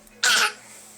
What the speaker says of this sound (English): See, he could cough. Cough, baby. Cough.